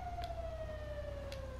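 Fire engine siren from the video game GTA 5 Online, a faint falling wail heard at a distance over steady background rumble.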